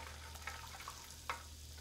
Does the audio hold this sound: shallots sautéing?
yes